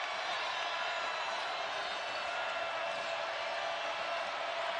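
Dense, steady roar of a basketball arena crowd at the Octagon of Doom, a continuous wash of many voices at even loudness throughout with no single voice standing out.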